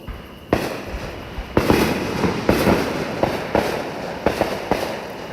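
Fireworks bursting around Peachtree City, Georgia, a series of heavy booms arriving roughly every second over a constant rumbling crackle, moderately distant and echoing, with no voices.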